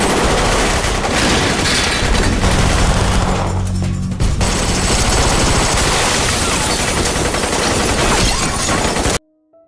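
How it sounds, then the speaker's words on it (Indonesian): Dense, rapid gunfire in bursts with crashing and breaking impacts, loud and close, continuing almost without pause before cutting off abruptly. "Dan akhirnya di sana pun mereka saling tembak-tembakan."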